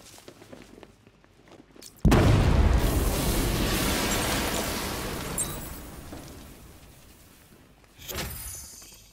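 A detonated explosion in the video game Batman Arkham Knight: after a quiet start, one loud boom hits and then rolls off in a long decaying rumble, with a smaller thud near the end.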